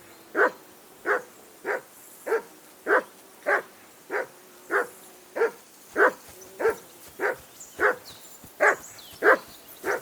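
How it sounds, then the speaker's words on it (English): A dog in the medieval role-playing game Kingdom Come: Deliverance 2 barks steadily, about sixteen evenly spaced barks at moderate distance, with no talk over them. "I assume you can hear that damn dog of yours barking."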